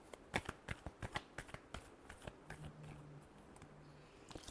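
A deck of tarot-style cards is shuffled close up in quiet, crisp riffles and taps, a quick run of sharp flicks followed by softer sliding shuffles.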